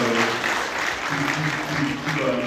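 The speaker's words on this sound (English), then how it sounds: "So, yeah, put your hands together." Applause from the audience at a Scholastic Art Awards ceremony, a continuous even rattle of many hands clapping throughout, with faint voices under it.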